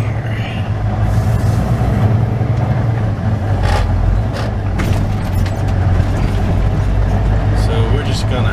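A heavy semi truck with an empty trailer slowly turns around on dirt, its low diesel engine rumble steady and loud throughout with occasional higher mechanical hisses and clanks, while a voice talks over it.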